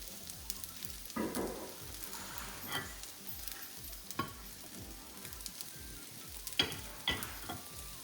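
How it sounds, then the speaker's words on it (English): Shahi lauki paneer kofta curry bubbling and sizzling in a pan, a steady low simmer with scattered pops and a few brief stir or spoon clinks, close and fairly quiet, with no talking. "my curry is boiling now"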